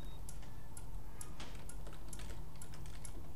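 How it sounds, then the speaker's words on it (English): Rapid, light keyboard clicks and taps in the horror video game Outlast, a quiet run of irregular key presses over a faint low hum. "Well, you click on the keyboard."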